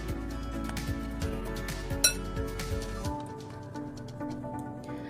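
A spoon or whisk clinks and scrapes against a small bowl while stirring an egg mixture for wheat burger dough, a close, steady series of light taps and clatters that thins out toward the end.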